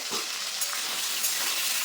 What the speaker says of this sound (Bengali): আলুটা ওরকম লাল লাল করে ভেজে নেবো